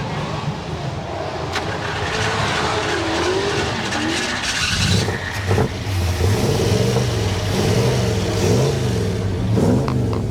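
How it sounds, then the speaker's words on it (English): A hot rod engine is cranked and catches, running rough and loud nearby, with revving rises and falls at a raceway park event; voices talk over it at times. "let's hold down the pedal and crank it over and hope it doesn't catch on fire"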